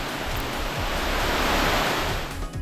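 A waterfall in Ubud, Bali, with a small cave behind it, pours as a steady, dense rush of water that stays loud and continuous throughout, with no voices.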